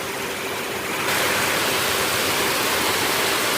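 Heavy rain pours down in a dense, loud, continuous hiss that swells sharply after the first second and fills the scene with no voices.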